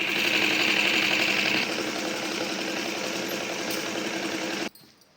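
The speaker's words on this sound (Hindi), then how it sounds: "देखिए इस गले पे मैंने सिलाई लगा दी है।" A sewing machine stitches the neck of a blouse with a fast, steady mechanical whir, close and loud, that eases slightly partway through and then stops abruptly near the end.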